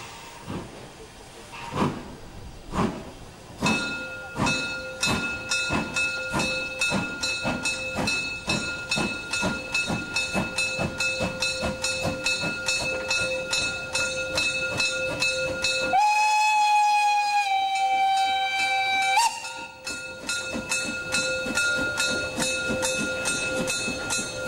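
Molli narrow-gauge steam train of the Bäderbahn pulling away, loud near chuffing exhaust beats in a steady quickening rhythm with hissing steam, joined by a sustained steam whistle blast partway through.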